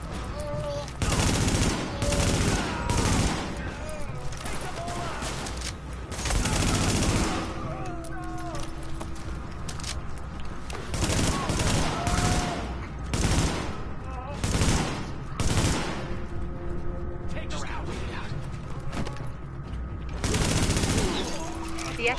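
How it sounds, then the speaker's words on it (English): A rooftop gunner in the video game The Division lays down heavy, sustained automatic fire in long, loud bursts with brief lulls, while voices are heard faintly underneath. "The escort party's taking heavy fire from the roof."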